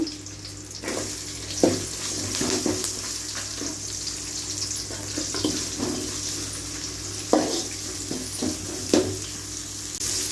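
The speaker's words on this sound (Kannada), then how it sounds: "ಈರುಳ್ಳಿ ಸ್ವಲ್ಪ ಕೆಂಪಗೆ ಬೇಯಬೇಕು" Chopped onion sizzling in oil in a pan for tomato rasam, a steady frying hiss with a few sharp stirring scrapes and clinks scattered through, no talking.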